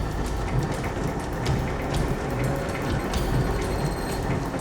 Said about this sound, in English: rainstorm that has darkened the sky and is threatening to slow down Brenda's load